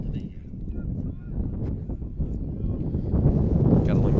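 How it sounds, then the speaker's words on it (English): Gusty wind buffets the microphone at an outdoor college baseball game, a low rumble that swells toward the end, while a voice talks over it. "Getting a little windy here."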